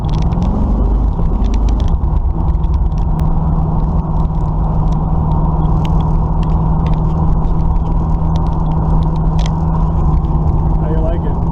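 A Camaro V8 fitted with a newly installed carburetor, rumbling loud and close with a deep steady drone, while people talk over it.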